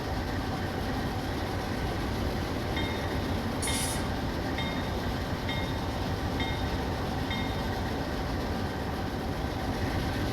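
Steady, loud video game train rumble on rails with a constant mechanical drone, a few faint high tones and a brief hiss partway through; no voices.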